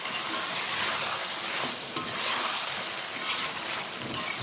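Chicken karahi frying with ginger and garlic in a karahi, a dense close sizzle with a few sharp stirring scrapes, steady throughout with no voices.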